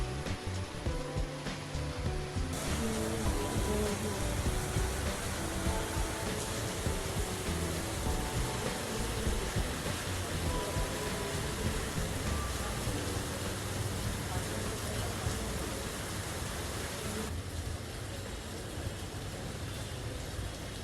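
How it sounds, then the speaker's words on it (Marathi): Heavy rain falls at a Mumbai temple as a dense, steady wash of noise that continues without a break, with a low rumble and no clear voices. "पाऊस चालू झालाय खूप."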